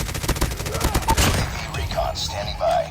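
Gunfire in the mobile shooter Call of Duty: Mobile, on the Firing Range map in Search and Destroy, comes as a quick rapid burst of sharp shots early on, followed by quieter game effects and faint voice chatter.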